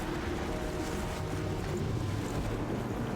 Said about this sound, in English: I'm taking you into water.